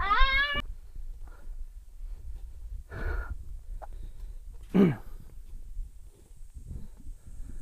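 A cat meows several times at intervals, one loud drawn-out meow opening and shorter ones following, close to the microphone in a quiet setting.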